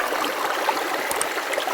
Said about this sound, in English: You can see the fast water coming around this inside bend